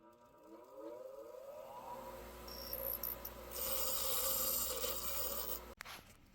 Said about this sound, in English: now I'm just going to clean it up on the bench grinder